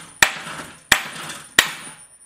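A hammer strikes a front axle part during a Jeep CJ Dana 30 disassembly, three sharp metallic blows spaced evenly and close, each ringing briefly before fading.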